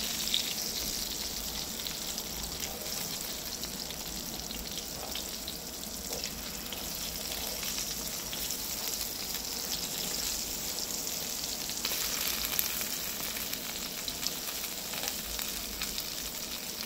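Anchovies frying in oil in a pan, a steady close sizzle and crackle that holds evenly throughout.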